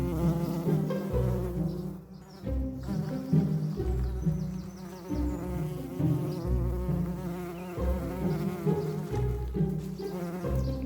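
Bees buzz steadily around a Western Australian campground, a dense, continuous insect drone close by with shifting pitch as individuals pass, no talk.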